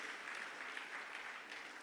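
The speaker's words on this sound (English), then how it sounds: "Let's clap for the GRASA president." Audience applause for the GRASA president at a university DoSA Day event, a dense, steady wash of many hands clapping throughout, moderately loud and without talk.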